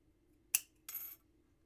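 Shears trim fabric for a pair of reversible earrings: two crisp, quick snips in a quiet room, the second slightly longer and softer.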